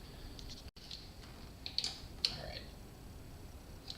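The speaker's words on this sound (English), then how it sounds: "it's getting tight now where I need my ratchet" A hand ratchet clicks in short bursts while tightening valve cover bolts on a Suzuki V-Strom 1000 motorcycle, faint, close metallic ticks spaced irregularly over quiet workshop background.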